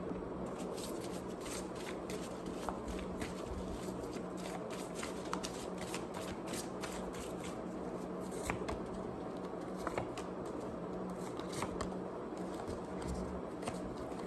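A deck of cards being shuffled close by, with soft repeated riffling and crisp flicking snaps spread through a quiet, continuous stretch.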